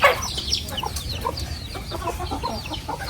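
Poultry hens cluck steadily in a village yard, with overlapping calls close by and a few sharper squawks over a continuous farmyard background.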